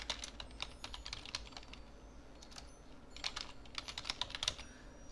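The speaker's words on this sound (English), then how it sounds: "I will type my name." A name being typed on a computer keyboard: quick bursts of light, close key clicks in uneven rhythm, pausing briefly midway before resuming, alone with no talking.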